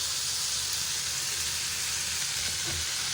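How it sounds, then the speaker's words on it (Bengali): Spicy fish frying in a pan with chili masala, a steady close sizzle and hiss that runs unbroken and fairly loud throughout, with no voices over it. "একটু ঝাল মিক্স ঝাল মাছ ভাজা"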